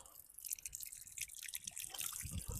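Water drips from a pipe at an outdoor dog park in a quick, irregular patter with trickling splashes, fairly close, steady across the clip with no talking.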